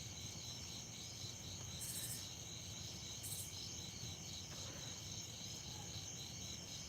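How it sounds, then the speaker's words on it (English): Crickets chirping out in the countryside at night far from any highways, a faint, continuous high pulsing trill over a quiet rural background with no talking. "All you hear is crickets."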